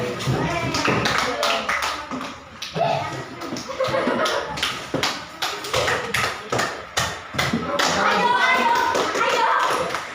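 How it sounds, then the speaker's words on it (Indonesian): People in a classroom clap their hands in uneven, repeated rounds of sharp slaps, close and loud, with voices talking and calling out throughout. "Gak apa-apa, aku tepuk tangan,"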